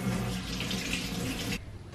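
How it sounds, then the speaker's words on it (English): Hands are washed under running kitchen tap water, a close steady splashing hiss that stops abruptly near the end, leaving faint room tone. "Let me just wash my hands."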